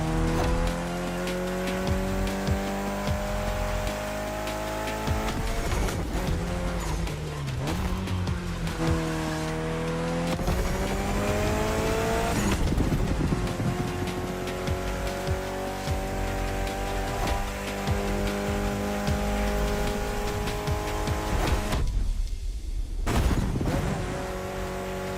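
Race cars roar and rev loudly through a racing game's event, engines rising and falling in pitch with bursts of tire squeal, continuous and close with a brief dip near the end.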